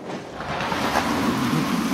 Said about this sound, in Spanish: Vaya tormenta.